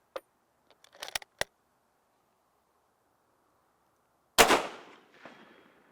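An Israeli Mauser battle rifle fires at an outdoor range: one loud, sharp report with a trailing echo, then a fainter follow-up crack, preceded by a few small clicks and knocks of handling.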